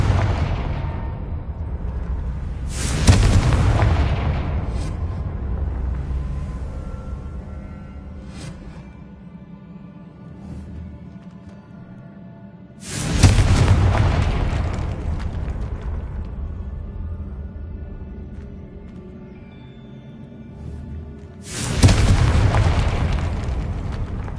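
Three loud, booming fiery blasts from the Confringo explosion spell in the Hogwarts Legacy video game, spaced about ten seconds apart, each with a long rumbling tail that fades before the next.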